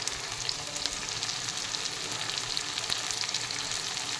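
Onions and brinjals fry in oil in a pan, giving a dense continuous sizzle with fine crackling, close and steady throughout with no talking.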